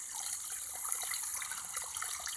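A large volume of water rushes down a pipe, a steady close broadband gush with no voices.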